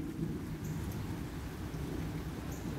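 Steady rain falls outdoors onto a car parked by a walkway after grass cutting and bush trimming, a dense continuous wash of drops heard close and fairly loud, with no voices.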